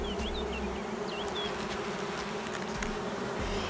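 Honeybees buzz steadily in a dense, continuous drone at an open hive in a beekeeper's apiary, with brief higher whines of individual bees flying close past, and no talk.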